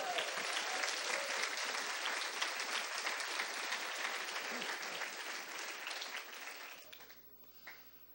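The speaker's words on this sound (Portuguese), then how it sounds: "Vamos aplaudir ao Senhor" A church congregation applauds in praise of the Lord after a hymn, dense sustained clapping from many hands that fades out near the end, with some voices mixed in.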